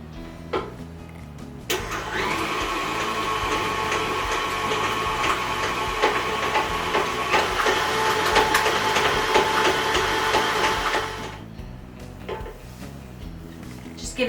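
A stand mixer kneads gluten-free sourdough with melted butter, a steady mechanical motor hum with a light rhythmic knock starting after a couple of seconds and running for about ten seconds before stopping.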